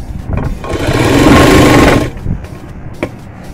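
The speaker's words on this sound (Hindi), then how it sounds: "इसका अभी हमें सिलाई करनी है, नेफे का हमें बनाना है।" Close, loud sewing machine stitching a plain salwar, one continuous run of rapid needle chatter lasting under two seconds, with softer handling clicks before and after.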